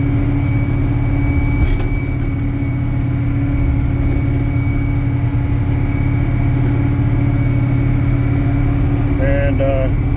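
A Caterpillar 980F wheel loader's diesel engine runs after a cold start in a snowy dirt pit, giving a steady, loud, low idling rumble that stays even throughout, close by and with no talking.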